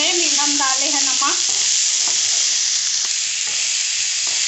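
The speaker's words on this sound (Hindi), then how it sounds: "सारे सब्जियों को हमें ज़्यादा नहीं पकाना है, फिर से इसको हमें क्रंची ही बनाना है और तेज आंच में ही इसको फ्राई करना है" Vegetables for Schezwan veg fried rice are stir-fried on a high flame, a loud, dense and unbroken sizzle that holds steady throughout, with a short tonal squeak at the start.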